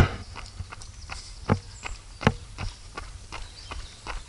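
Horses and ponies walk across a large open farm plot, their hooves landing in an uneven clip-clop of separate steps, fairly close and distinct over a low outdoor background, with no talking.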